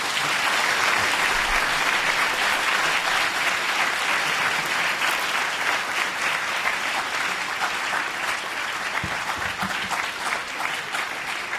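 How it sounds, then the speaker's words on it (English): A meeting audience breaks into a sustained round of applause at a climate justice gathering, dense steady clapping holding at an even level throughout with no voices over it. "there's a spontaneous round of applause, which is unexpected and possibly even undesirable"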